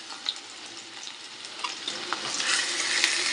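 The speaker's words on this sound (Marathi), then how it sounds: "कांदाही मस्त फ्राय करून घेऊया" Sliced onion frying with a few cloves of garlic in hot oil in a pan, a soft sizzle with scraping stir strokes that builds louder toward the end.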